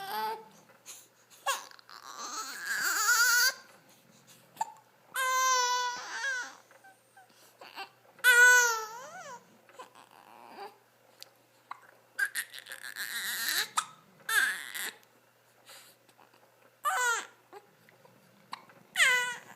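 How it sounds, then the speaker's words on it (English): An infant cries in short, wavering bursts broken by quick hiccups and whimpers, close and fairly quiet, with pauses of near silence between outbursts. "You always have the hiccups, huh?"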